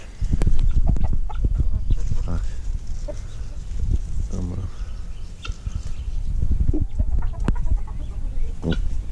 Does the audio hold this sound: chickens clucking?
yes